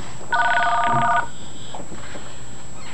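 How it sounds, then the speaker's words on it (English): A telephone rings once with a bright electronic warbling tone, clear and close for about a second, then fades into quiet room tone with a faint rustle. "And then the phone would ring. Incoming call."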